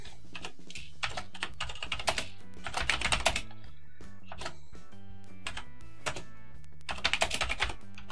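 Bursts of rapid clicking keystrokes on a computer keyboard, typing into Microsoft Basic on a CP/M system, coming in uneven flurries with short pauses between, close and clear with no talking.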